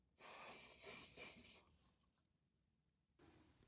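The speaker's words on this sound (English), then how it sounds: "So here comes the compressed air. Nice. And here comes the GT85." Compressed air blasts onto a rear seat bolt in a Ford Mondeo Mk3, a loud steady hiss lasting about a second and a half, followed after a pause by a fainter GT85 spray burst starting.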